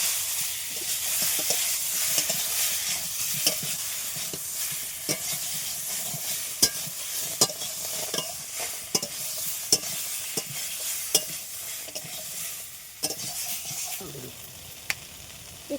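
A spatula stirring mango in a sizzling frying pan while cooking a rui fish dish, with steady loud frying hiss and regular sharp scrapes and clacks against the pan, no voices.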